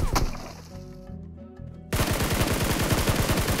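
Rapid automatic gunfire in a first-person shooter video game, a fast, loud burst of repeated shots after a quieter stretch, continuing steadily to the end.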